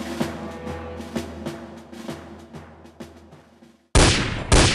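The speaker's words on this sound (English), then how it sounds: "Gunshots are heard, and the crowd screams." A series of sharp gunshot bangs at roughly regular intervals over a low, steady hum, ending in two louder, harsher blasts.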